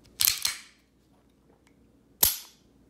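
An STI Taran Tactical Combat Master 2011 9mm pistol gives sharp metallic clicks up close in a quiet room, a quick double snap followed after a pause by one more crisp click.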